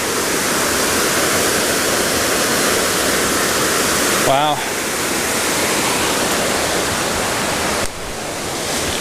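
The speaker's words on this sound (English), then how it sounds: "Lots more rushing water." Waterfall on the Cascade River along the Superior Hiking Trail, roaring loud and steady from nearby throughout, with a brief spoken exclamation partway through.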